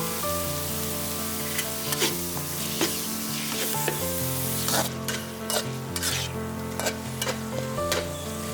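Ground beef frying with Massaman curry paste on medium-high heat, a loud continuous sizzle with periodic clacks of a spatula stirring, close-up over quiet background music, with no talking.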